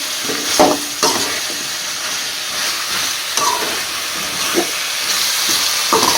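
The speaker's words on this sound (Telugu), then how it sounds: "బాగా టమాటో గుజ్జులకి పుట్టగొడుగుని ఎలా కలిపేసుకోవాలి" Mushrooms being stirred into tomato pulp in a pan for a country-style mushroom curry, with a steady background sizzle and hiss and a few scraping stirs of the spoon, moderately loud, no talking.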